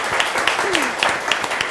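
Audience applause after a violin concert performance in Korea, a steady patter of clapping from a seated crowd with voices and a brief sliding tone mixed in.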